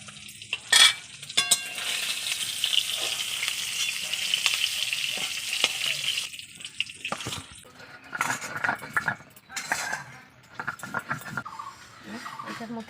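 Fish frying in a pan, with a dense close sizzle and occasional stirring and utensil clinks, the frying fading into intermittent kitchen handling noises later on.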